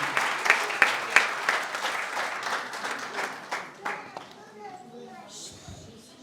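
Applause from an audience welcoming a minister at a community book launch and felicitation event, a steady patter of many hands clapping at moderate volume, fading out toward the end.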